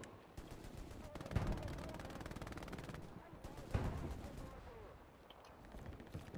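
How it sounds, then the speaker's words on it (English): Distant rolling gunfire and artillery thuds in the World War II shooter Hell Let Loose, a fairly faint, steady battle din with a couple of heavier booms standing out. "Just keep hitting it with artillery."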